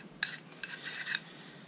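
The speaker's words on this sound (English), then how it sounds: "So you're going to take your barrel nut now and just get this hand tight." An AR-15 barrel nut being threaded by hand onto the upper receiver, giving a few short metallic rasps and scrapes close up, with a longer grinding stretch near the end, in a quiet room.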